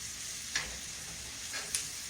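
Hamburger steak and gravy sizzling and frying steadily in a pan, a soft constant hiss with two faint clicks, no talking.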